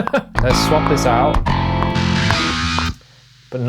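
Electric guitar played through a heavy distortion effect, a sustained, saturated chord ringing loud and close for a few seconds, cutting off abruptly before a brief silence and a softer return.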